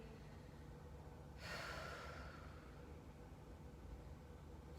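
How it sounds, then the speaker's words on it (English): A single slow, deep breath drawn during yoga relaxation, rising as a soft airy whoosh for about a second and then fading into quiet room hiss. "Focus on deep breathing."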